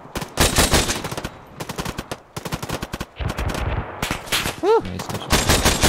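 ArmA 3 gunfire during a Humvee ambush, with bursts of automatic fire and single shots, loud and close, interrupted by short gaps and a brief electronic chirp, while a voice shouts once.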